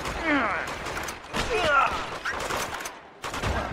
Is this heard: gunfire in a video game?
yes